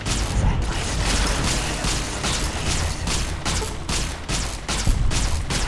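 Rapid gunfire in the video game Fallout: New Vegas, a dense, loud string of repeated shots and mechanical clatter lasting the whole few seconds, with no talk over it.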